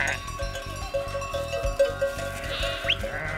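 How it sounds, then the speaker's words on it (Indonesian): A flock of about 80 sheep bleat while being herded back to the pen in the evening, scattered bleats over a steady rhythmic background thump and a faint high chirp, moderately quiet and mid-distance. "saatnya menggembala domba kembali ke kandang"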